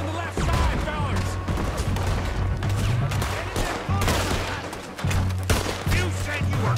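Dense gunfire from a Red Dead Redemption 2 battle on Guarma, with rapid overlapping shots and booms in a continuous loud volley, mixed with shouted voices.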